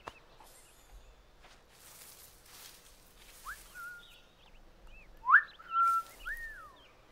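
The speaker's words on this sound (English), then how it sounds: "Can you whistle for her too?" Short whistled notes, several rising and sliding, come in Assassin's Creed Black Flag against faint background noise, with the loudest near the end.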